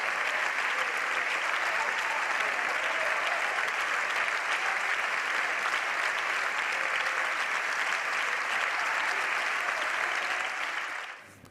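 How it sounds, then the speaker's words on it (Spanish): Members of parliament on the Partido Popular benches applauding in a sustained, dense round of clapping that holds steady for about ten seconds before cutting off sharply at the end. "Termina esa réplica de Alberto Núñez Feijóo, al que aplauden ahora desde la bancada del Partido Popular"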